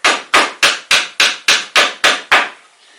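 Nine sharp, evenly spaced strikes from a light hammer in quick succession while removing a two-part sculpture mold, loud and close, each ringing briefly before the next.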